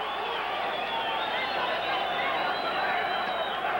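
A boxing arena crowd at a WBC world featherweight championship bout roars steadily and loudly, a dense continuous wash of cheering and shouting that holds throughout the moment.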